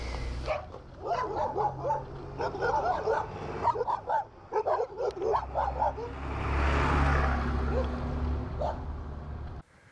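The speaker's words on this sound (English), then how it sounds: "the dog that was barking at me earlier has chosen to accompany me" Out on a cloud-covered volcano trail at 2 a.m., a dog yaps and barks in quick, close bursts, followed by a steadier rumble of wind or traffic noise.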